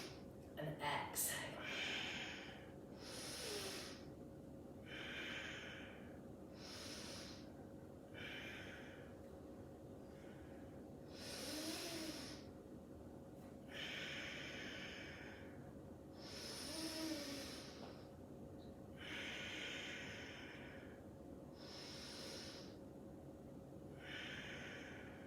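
Slow, deep yoga breaths are heard up close: roughly seven or eight breathy inhales and exhales at a calm, even pace. A faint steady hum sits underneath the breathing.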